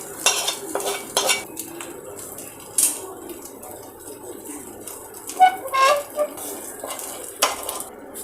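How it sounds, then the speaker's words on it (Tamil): Mutton curry being moved from a pot with a spoon while preparing mutton and egg ghee dosai, metal utensils clinking and scraping in scattered taps against faint kitchen sizzle. "இப்போது இந்த கறியை இதில் ட்ரான்ஸ்ஃபர் பண்ணணும்"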